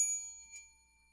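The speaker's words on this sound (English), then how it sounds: "I will employ what I have called the inappropriate bell" One bright metallic ding from a small bell, with a faint second strike just after, ringing clearly and fading out over about a second in a quiet room.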